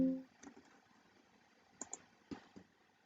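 Faint, sparse clicks from a computer keyboard as keys, including Enter, are pressed one at a time while working in Excel, spaced out in a quiet room.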